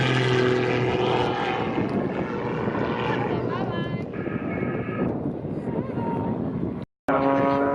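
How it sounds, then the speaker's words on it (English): A propeller aircraft flies a display at the Southport Airshow over the pier, its engine drone loud and continuous with shifting pitch and a brief cut near the end, a voice talking over it. "I think you're amongst the first people to see this new aircraft"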